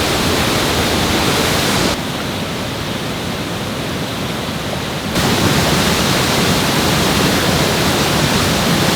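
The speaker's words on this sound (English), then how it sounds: "I'm completely surrounded by a giant waterfall." A giant waterfall roars in a steady, loud, broadband rush that fully surrounds the listener, with a noticeable shift in tone partway through and no voices.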